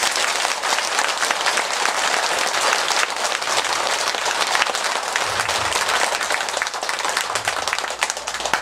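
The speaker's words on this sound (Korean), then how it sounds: "큰 박수 한번 치세요." A crowd at a temple lecture applauding, dense sustained clapping that holds steady and loud for the whole stretch.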